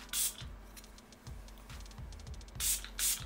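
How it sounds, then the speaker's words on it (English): Short hissing spritzes of a makeup setting mist spray, several quick pumps near the start and two more toward the end, close by and otherwise quiet. "So I'm gonna hit it with some Catrice Illuminating Setting Mist."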